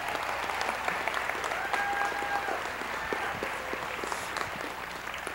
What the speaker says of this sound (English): Can we give them another round of applause, these two?